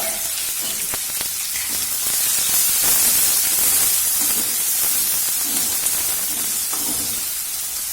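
Chopped onion dropped into garlic paste frying in oil gives a loud, steady, hissing sizzle that swells briefly and carries on close by, with no one talking over it.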